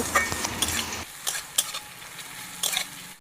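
Onions frying in a pan, a soft crackling sizzle with several sharp stirring scrapes and spatula knocks against the pan, close and fairly quiet.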